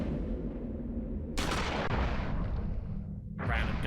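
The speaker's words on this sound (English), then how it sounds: "Random gunshot there." A gunshot in the video game Eternal Darkness: Sanity's Requiem cracks out as a sudden loud broadband burst, with a second blast following shortly after, over a steady background of game ambience and low rumble.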